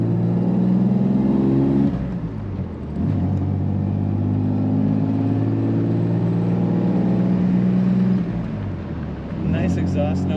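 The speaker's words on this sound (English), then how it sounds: "Nice exhaust note coming out of the back of this car." A 1938 Plymouth five-window coupe street rod rumbling along the road, its low exhaust note droning steadily and close up with rising and falling revs, while someone talks over it.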